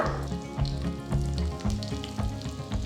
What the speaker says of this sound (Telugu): సో ఆవాలు ఆడుతున్నాయి